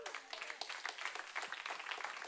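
A congregation claps at a church service, a brief burst of quick, fairly distant applause lasting a couple of seconds.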